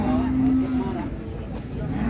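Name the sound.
cattle mooing at cattle market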